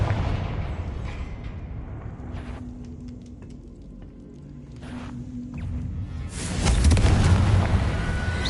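A Confringo explosion spell cast in Hogwarts Legacy: muffled rumbling and scattered low thuds build to one loud, booming blast near the end, heard alone without speech.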